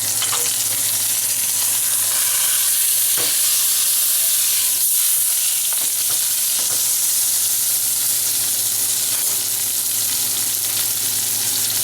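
Beef chuck roast sears in a hot pan with a steady, close, loud sizzle and crackle of frying fat that holds throughout, with a few faint clicks and scrapes of handling and no talking.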